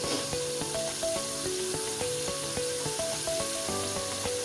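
Powdered spices roasting in a pan for fried daal mash, sizzling as a steady hiss under plucked background music.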